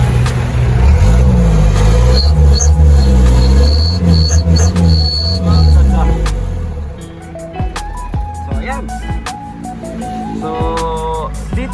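Isuzu Elf 4JG2 diesel engine after a rebuild with new piston rings, idling then revved up and down in several swells, loud and close, settling into uneven idle with clicks and whistles near the end.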